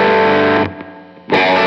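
Distorted electric guitar chords ring out through a Line 6 Helix amp modeler: a loud sustained strum cuts off, a quieter tail follows, then a second strum bursts back in.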